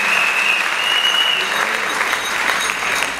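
Audience applause fills a theatre during a concert marking the 70th anniversary of the Legion of Mary in Senegal, a steady dense clapping that runs throughout at full level with a faint whistle-like tone early on.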